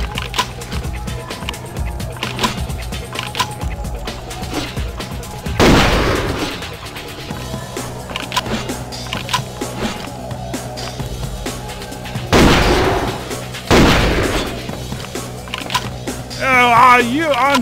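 Gunfire in the video game Vampire: the Masquerade - Bloodlines, with several loud, sharp shot bursts spaced apart over steady game noise.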